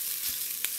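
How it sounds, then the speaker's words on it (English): Ground meat frying in the bottom of a pan, a soft continuous sizzle with a faint bump and a quick scrape near the end, brief and close. "And as it fries, I'll just break it up in the bottom of the pan."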